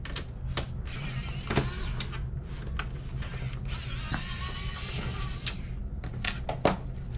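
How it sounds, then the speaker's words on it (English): Screws being backed out of the cooling system and heat sinks inside a PS3 Fat CECHH01, a close mechanical whir and ratcheting with small clicks and clacks over a steady low hum. "Now we're going to remove these screws that hold the cooling system and the heat sinks in place."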